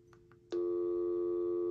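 After a couple of faint button clicks, a BT Advance cordless home phone starts a loud, steady line tone that holds unbroken to the end.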